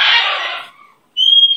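A pet bird lets out a loud, harsh squawk that tapers off, then a brief shrill call follows after a short pause, close by with no talking.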